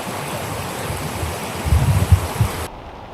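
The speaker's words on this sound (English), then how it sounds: "it's starting to rain" Rain starting to fall while hiking in the Himalayas on a Nepal trek toward Annapurna Base Camp, a steady broadband hiss with denser low patter building in the second half, then cutting off abruptly near the end.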